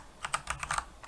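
Fingers tap a computer keyboard in a quick run of about eight light, close clicks, uneven in rhythm and heard alone at low volume.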